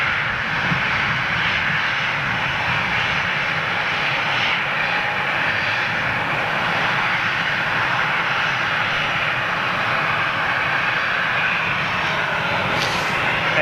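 Hainan Airlines Airbus A330 jet at Manchester Airport, a steady, loud roar of aircraft engines that holds unbroken throughout without any talking.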